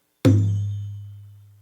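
A single deep hand-struck bata drum hit, a soft thud with a low, sustained tone that fades slowly over more than a second, alone.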